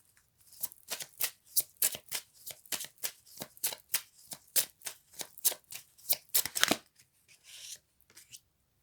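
Tarot cards are shuffled in quick, crisp riffling bursts, about a dozen close, regular snaps that stop after a final louder flurry, with no voices.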